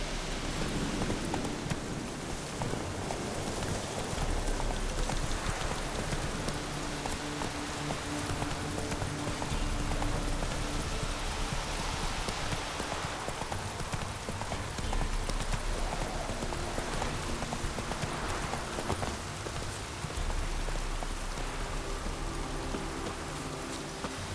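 Roach the horse's hooves clop steadily through falling rain in The Witcher 3, a continuous rhythmic clip-clop blended with a dense hiss of rain on the ground.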